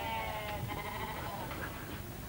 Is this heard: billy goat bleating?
yes